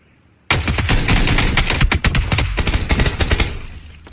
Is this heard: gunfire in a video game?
yes